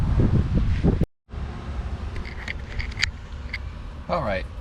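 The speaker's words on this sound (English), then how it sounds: "it's a bit windy outside" Gusty wind buffets the microphone outdoors, a steady rumbling roar with a brief dropout, and faint tones and movement sounds underneath.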